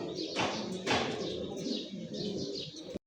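Danish pigeons coo softly at close range in repeated low, throaty phrases, with occasional chirps and a brief flutter.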